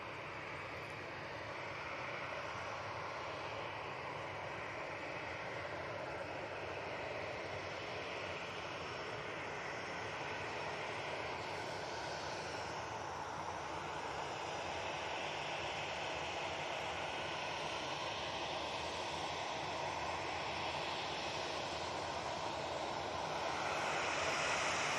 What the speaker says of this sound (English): EasyJet coming in